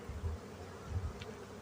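Faint buzzing of honeybees in a hive in spring, a low droning hum with a couple of slightly louder passes, quiet and close.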